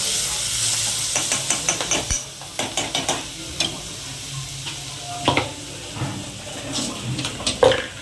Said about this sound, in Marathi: थोडासा ब्राऊन कलर येईपर्यंत आपण त्याला थोडंसं परतवत राहिलं पाहिजे